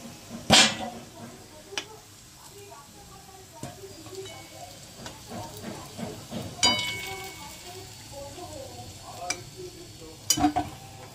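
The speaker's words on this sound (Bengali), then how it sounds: "আবার আমি একইভাবে তেলে একটা একটা করে ছেড়ে দেব" Litti frying in hot oil, a continuous sizzle with scattered clinks and bumps as pieces are moved about, a few sharper knocks near the start and end, recorded close with faint background voices.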